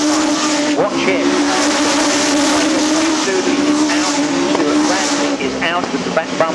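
Stock cars race at Arlington Stadium, engines roaring loud and continuous with tyre squeal, while a commentator talks over the noise.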